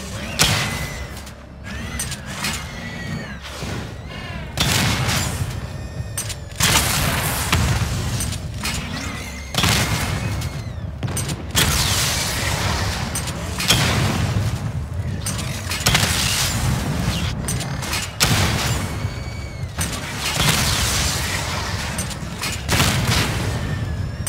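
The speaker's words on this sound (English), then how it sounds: "Charge up missile barrage to level 2 and destroy 4 active targets to complete diagnostic test" Repeated missile barrage blasts in the Batman Arkham Knight video game, loud dense bursts of explosions and mechanical clatter recurring in waves with short gaps, heard alone without talk.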